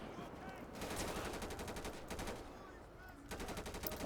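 Automatic gunfire in the video game GTA 5 rattles out in rapid, loud bursts, with a brief break before another volley.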